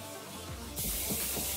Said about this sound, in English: So now I'm just going to spray my Morphe spray.